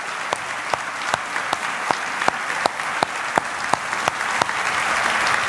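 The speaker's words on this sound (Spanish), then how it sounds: "Vamos a darle el mejor de los aplausos al Rey." Church congregation applauding in praise during a sermon, steady dense clapping with sharp individual claps standing out, sustained and even for several seconds without talk.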